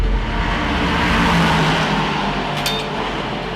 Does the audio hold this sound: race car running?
yes